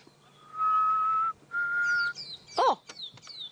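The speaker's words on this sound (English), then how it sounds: "I'm going to whistle to him, and he's going to whistle back" On an evening safari drive, a person whistles two long steady notes and a pearl-spotted owl answers with short, rising and falling whistled calls nearby.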